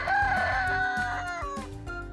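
A rooster crows once in a loud, close, drawn-out cock-a-doodle-doo that fills the short moment, with no other sound around it.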